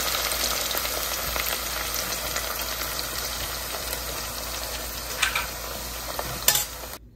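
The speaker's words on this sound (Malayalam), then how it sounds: "അപ്പം ആ ഒരു പരുവത്തിന് ഇതെല്ലാം വറുത്തെടുക്കുവാണേ" Bitter gourd pieces frying in hot oil for a pickle, a steady dense sizzle throughout with a couple of brief sharper crackles near the end, close and alone without talk.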